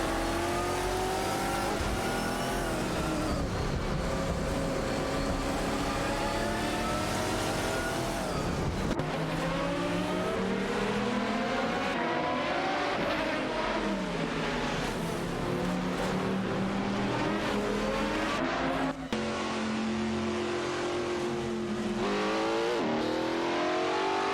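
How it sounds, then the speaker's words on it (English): Nissan 350Z GT1 and Chrysler Viper GTSR race cars in a racing video game roar continuously, engines revving up and down through gear changes, with several cars close together and no speech. "2 for 80 and Kopsuyu are locked in another battle for 18P with Sidriq and Dope Slides, both driving a Chrysler Viper GTSR."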